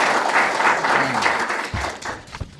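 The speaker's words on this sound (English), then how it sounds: "give a clap to that straight away" An audience at an opening address applauds with steady, dense clapping from a crowd, fading out toward the end with scattered final claps.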